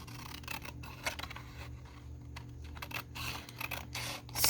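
Scissors cutting a small paper pocket for mini journal cards, giving close snipping and crisp paper rustling in a few quick bursts, with no talk.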